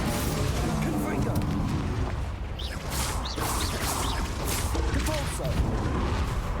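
Confringo fire-blast spells cast in a Hogwarts Legacy duel, loud booming bursts and whooshes layered over dense combat noise, with a player's voice talking throughout.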